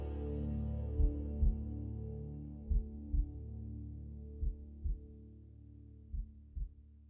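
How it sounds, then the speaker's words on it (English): A deep heartbeat thumps in a song, paired beats repeating slowly and evenly over a sustained low droning tone, with no voices. "You can hear that heartbeat."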